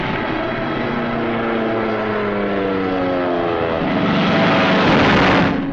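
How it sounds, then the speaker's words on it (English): WWII military planes taking off, a loud continuous propeller engine drone with steady whining tones, swelling louder near the end as the aircraft pass close. "our planes took off to tackle the Luftwaffe"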